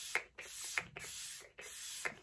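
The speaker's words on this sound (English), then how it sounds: "So I will put the like a dewier mist setting spray on before I set my face here." Dewy-finish makeup setting spray misted onto the face, four short hissing pumps in quick succession, close and soft, with no speech.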